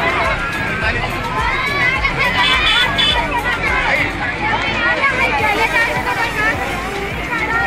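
A dense crowd bustles at the Sita Dwar fair in Shravasti, India, with constant overlapping chatter, shouts and footsteps close by in a busy, noisy mix.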